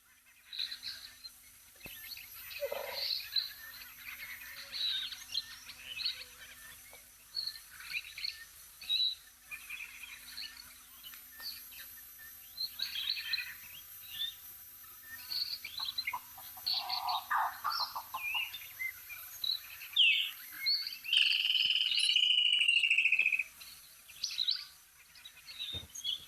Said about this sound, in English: Okay, so that's the sound of the woodland kingfisher.